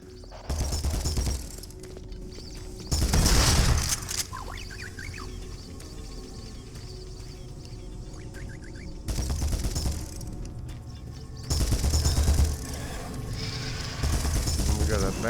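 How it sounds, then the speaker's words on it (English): Shotgun blasts in the VR game Doom 3 VR, several loud booming shots at irregular intervals with mechanical pumping clicks between them, while someone talks over the action. "you can melt these dudes with this shotgun for real"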